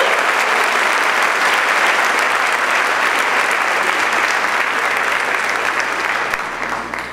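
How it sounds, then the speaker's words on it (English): An audience at a school spring concert applauds steadily, dense clapping from many hands filling the space, loud and sustained before tapering slightly at the end. "give them a round of applause"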